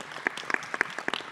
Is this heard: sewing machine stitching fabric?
no